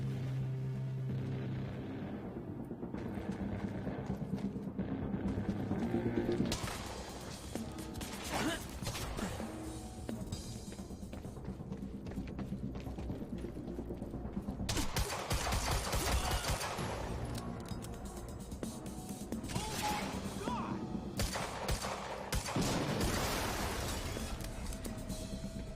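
Rapid gunfire bursts from the Quantum Break shooter game on PC, a dense, continuous barrage of shots and crashes running throughout, with a voice talking over parts of it.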